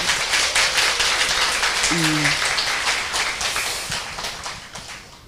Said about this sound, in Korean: 본인들을 위해서 박수 한번 보내볼까요?